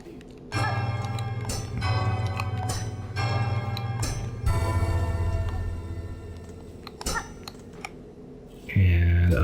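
A bell rings repeatedly in a steady, clanging rhythm over a droning low tone, then a heavier thud and shift in sound at the end.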